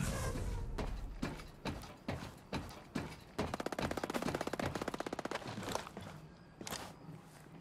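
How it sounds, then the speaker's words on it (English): Unsuppressed enemy gunfire in Ghost Recon Breakpoint PvP play, with single shots and short bursts giving way to a long rapid automatic volley, then a few more scattered shots, fairly close and loud. "I hear unsuppressed enemy fire."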